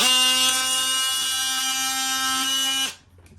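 A Dremel rotary tool cuts a burr off vinyl flooring during installation, a steady high-pitched whine held close for about three seconds before it cuts off abruptly.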